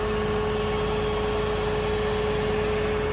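A crane mounted on a 2014 Ram 5500 service-body truck, a 6620 model, rotates with a steady, close drone of engine and hydraulics under a constant thin whine, unbroken for the whole stretch, with no voices.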